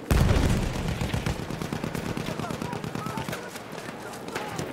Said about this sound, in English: Enemy machine gun sighted